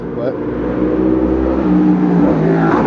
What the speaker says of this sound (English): that was a motorcycle right there